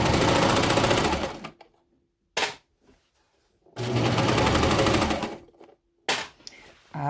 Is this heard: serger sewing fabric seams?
yes